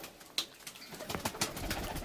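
Pigeons in a loft where Ablu and Ablu Star tournament fliers are kept, giving soft, low cooing and bird sounds amid steady room noise, with a brief sharp tap near the start.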